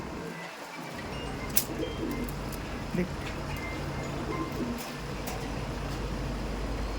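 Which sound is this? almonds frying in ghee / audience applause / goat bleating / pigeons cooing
pigeons cooing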